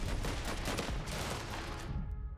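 Dense, continuous gunfire from a war video game fills the stretch: overlapping rapid bursts and volleys, loud and close, with no talking over it.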